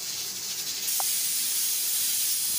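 A steady, loud hiss of escaping steam from a pressure cooker opened after boiling chicken, swelling slightly and holding, with a faint short beep near the start.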